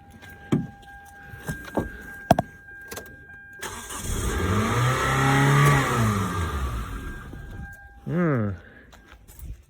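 A Kia Soul that sat unused for four years runs at a high idle. Clicks and a short speaking voice come first, then the engine swells to a sustained rev and drops, with a brief blip near the end.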